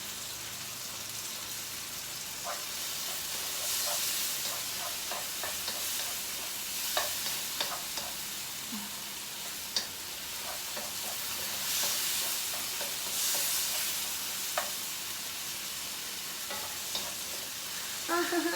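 Hot oil spatters and sizzles steadily in a pan while chicken curry cooks with pepper and salt, a continuous crackling hiss with scattered louder pops and no talking.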